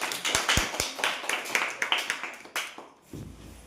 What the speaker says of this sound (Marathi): पल्लवीसाठी सुद्धा एकदा जोरदार टाळ्या झाल्या पाहिजेत